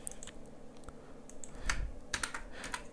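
Fingers tapping out keystrokes on a computer keyboard in irregular bursts of close, crisp clicks, with a denser flurry toward the end.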